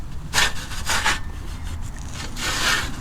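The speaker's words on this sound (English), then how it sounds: "I got it, the top welded on, and it slides." A welded metal top on a mini metal lathe slides back and forth without lubrication, giving three close, dry scraping rubs about half a second each.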